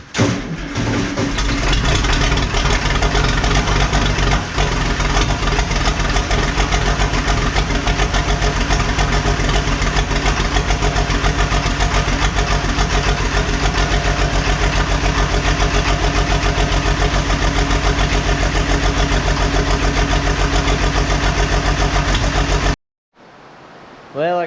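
A Farmall 560 tractor engine runs steadily and loudly at a low, even idle, droning without a break until it cuts off near the end.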